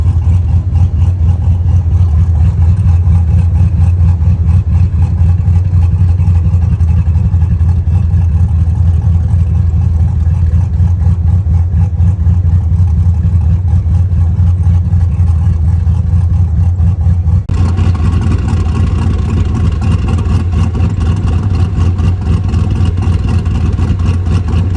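A Chevrolet 2500 truck engine with a factory 1-bar MAP sensor and stock 25 lb injectors runs loud and close in a steady, continuous drone. Its tone shifts abruptly partway through under a light rev.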